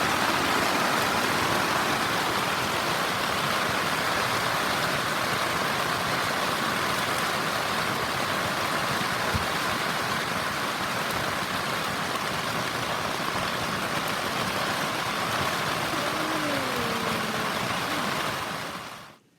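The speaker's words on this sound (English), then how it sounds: "Thought I'd let you listen to the rain." Steady rain drums on a tent during a night of camping, a dense, even hiss that holds at a constant level the whole way through and then cuts off at the very end.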